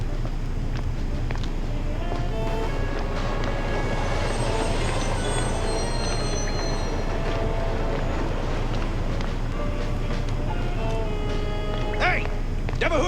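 Subway train in a video game rumbling steadily throughout, with squeals and clatter layered over a busy station din and people talking.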